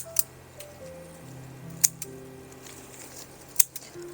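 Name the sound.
pruning rose branches with shears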